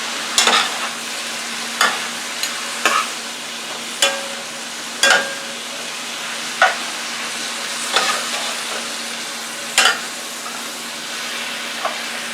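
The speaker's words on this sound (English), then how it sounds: "So this is how we're frying it." Kale greens frying with smoked turkey wing pieces, a steady sizzling hiss broken by regular sharp clinks and scrapes of stirring roughly every second or two, close and without talk.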